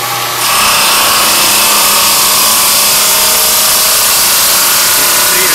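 A CNC saw cutting in Ocala starts up as a sudden loud, steady high whine with grinding that holds constant through to the end, close and dominant.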